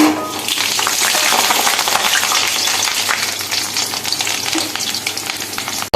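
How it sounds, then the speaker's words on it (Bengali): Potatoes fry in hot mustard oil in a wok, a loud close sizzle with scraping and stirring clatter throughout, no voices over it. "তেল গরম হয়ে গেছে এবার আলুগুলোকে ফার্স্টে ভেজে নেব আলুগুলোকে দিয়ে দিলাম"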